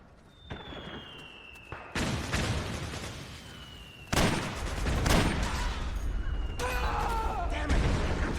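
Gunfire in the video game Metal Gear Solid 4 comes as several sharp, loud bursts of shots and blasts in quick succession over a continuous battle din.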